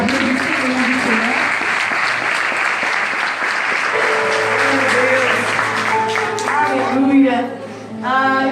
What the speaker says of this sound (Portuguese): Aplauda o Senhor, meu amigo.